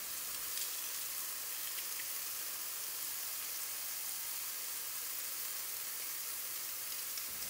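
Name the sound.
pressed garlic frying in rendered fat in a pan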